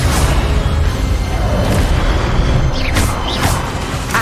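An Incendio fire spell erupts in Hogwarts Legacy as a loud, sustained roaring blast with sweeping whooshes near the end, dense and close with no talking.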